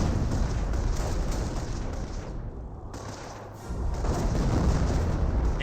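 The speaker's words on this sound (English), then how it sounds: "good hit there on the Grenadiers with that AT gunshot" Heavy battlefield gunfire and booming blasts fill a Company of Heroes video game scene, with a sharp anti-tank gun shot and impact on grenadiers standing out amid continuous loud combat noise.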